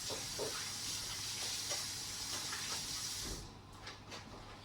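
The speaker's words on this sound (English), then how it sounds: "I'm just going to wash my hands, hold on." Running water splashes steadily as hands are washed at a kitchen sink during steak preparation, a continuous broadband hiss that cuts off abruptly near the end, leaving a quieter room.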